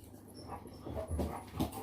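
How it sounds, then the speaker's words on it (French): Pet dogs whimper and whine faintly, with soft, uneven yelps rising toward the end against a quiet room background. "On se calme les toutous."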